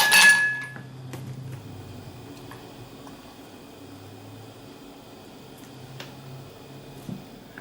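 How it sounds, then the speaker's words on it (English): A few ice cubes are dropped into a glass holding an eggnog and vanilla yogurt smoothie, giving quiet clinks and light knocks against faint background noise. "just chuck a few ice cubes in."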